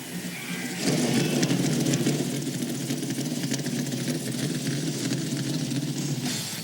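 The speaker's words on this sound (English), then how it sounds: "Drivers, start your engines!" Several race car engines idle together at the grid of a 2002 American Le Mans Series sports car race in Monterey, a loud, steady rumble that swells after a quieter first second and holds without break.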